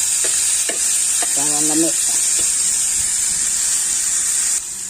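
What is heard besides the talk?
tomatoes being sautéed in a pan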